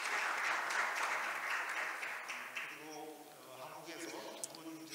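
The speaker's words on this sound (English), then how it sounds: "Please welcome her with a big round of applause." A conference audience at the 2024 International IP Court Conference gives a dense round of applause that fades after a few seconds as a voice begins speaking.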